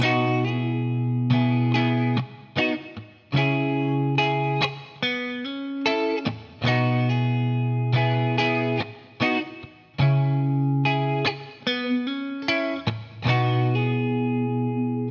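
An electric guitar plays a repeating riff with hammered notes, drenched in distortion, chorus and echo effects, loud and alone.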